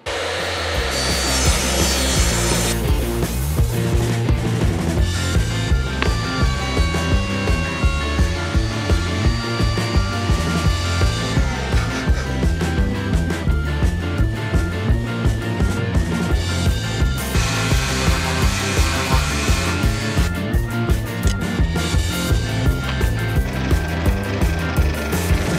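A handsaw cuts through a piece of oak in steady back-and-forth strokes, each stroke giving a rasping sweep, loud and close with no talking.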